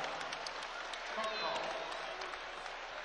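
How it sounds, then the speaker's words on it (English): Light, scattered applause from a basketball crowd at a 2007 men's college game against San Jose State, a soft steady patter of claps beneath a commentator's continuous talk. "A little smattering of applause there."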